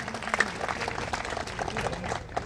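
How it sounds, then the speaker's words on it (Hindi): Crowd at an outdoor political election rally applauding a candidate, a steady wash of clapping at moderate level with a few louder peaks and no speech over it. "जोरदार एक बार अपने लाडले सहज सहज प्रत्याशी का तालियां बजाकर आप अभिनंदन करें।"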